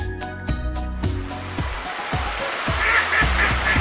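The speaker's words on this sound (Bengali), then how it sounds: "হাঁসকে ইংরেজিতে বলে" A domestic duck quacks in a steady series of loud, nasal calls about every half second, close and clear, with a faint higher tonal sound joining toward the end and no talking.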